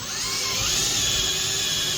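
Power drill whining steadily as it bores a pilot hole through drywall into a wooden stud while mounting a TV, a continuous close high-pitched drone over two seconds.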